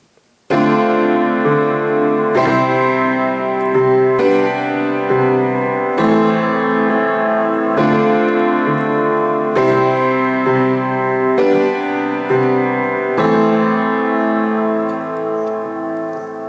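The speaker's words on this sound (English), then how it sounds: "So once through, your chorus backing track should sound something like this." Piano backing track for the chorus of a song: sustained chords played alone, struck roughly every two seconds in a steady rhythm, ringing out clearly and close between changes.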